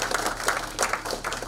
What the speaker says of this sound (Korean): 우리 김성태 원내대표께 다시 한번 큰 박수 부탁드리겠습니다.